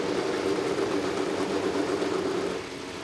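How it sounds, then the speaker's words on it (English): IndyCar race cars fire up and idle at a one-mile oval in Phoenix, a dense steady engine roar that drops slightly near the end. "Drivers, start your engines!"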